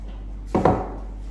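Flower stems are trimmed for a table centre arrangement, giving a single quick crisp snip or two, close and short against a low steady hum.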